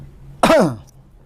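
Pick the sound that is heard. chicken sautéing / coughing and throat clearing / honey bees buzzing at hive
coughing and throat clearing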